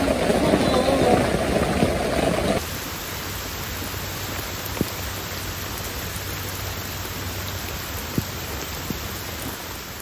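Rain falls all day on a Kia Ray during solo car camping, a steady close hiss that drops to a softer, even patter partway through, with occasional single drips.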